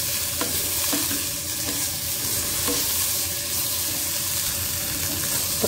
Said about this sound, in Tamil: இப்போ காலிஃப்ளவர் நல்லா ரோஸ்ட் ஆகிடுச்சு